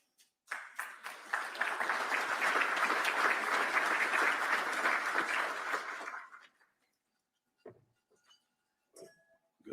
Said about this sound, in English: Good timing on the applause